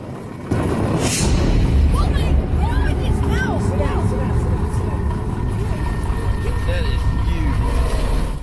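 Boat outboard engine running on the water in crocodile country, a loud close steady motor drone throughout, with people's voices and excited chatter over it.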